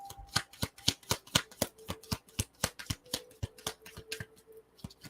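Moonology Oracle cards are shuffled by hand in a rapid series of close, crisp riffling snaps and taps, fairly even in rhythm, with no talking over them.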